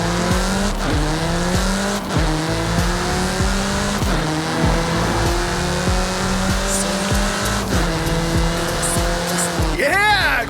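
A car in Forza Horizon 5 revs hard and loud throughout, its engine pitch climbing and dropping through repeated gear shifts, with tires squealing as it slides through turns and a brief skid near the end.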